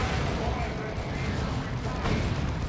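Lascannon tank fire in the strategy game Dawn of War 2 thunders as a dense, continuous wash of heavy blasts and booms amid battle noise, with a voice talking over it.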